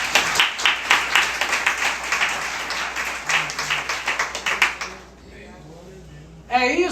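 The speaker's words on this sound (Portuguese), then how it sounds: "Você pode dar uma salva de palmas ao Senhor?" A church congregation claps together in a lively burst for several seconds, loud and close with rhythmic clusters, then fades to a quiet room before a voice or sound returns at the end.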